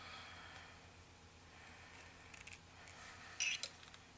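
Wire cutters snip through wire at close range. A few faint clicks come first, then one sharper, brighter snap near the end, all over a quiet background.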